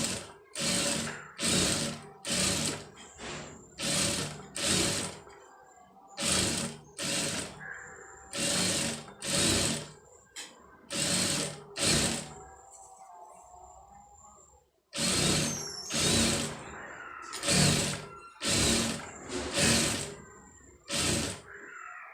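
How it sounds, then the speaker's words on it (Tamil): A sewing machine stitches along readymade piping in repeated short bursts of fast mechanical chatter, close and clear, with brief pauses between runs and one longer stop midway. "கரெக்டாக அந்த ஒட்டுலேயே அந்த த்ரெட்டு ஓரத்துலேயே தையல் போட்டிங்கன்னா உங்களுக்கு வந்து பைப்பிங் வந்து நீட்டாக வரும்."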